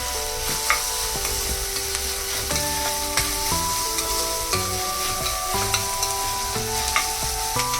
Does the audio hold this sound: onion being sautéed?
yes